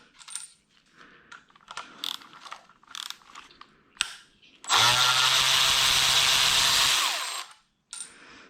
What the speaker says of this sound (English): So we unscrewed this stuff